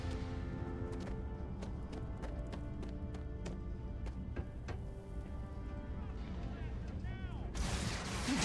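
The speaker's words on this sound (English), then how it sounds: "How are you by shooting me through the wall?" Gunfire in the video game Starfield, shot through a wall. Sharp, separate reports crack at irregular intervals over a steady background hum, with a louder burst of noise at the very end.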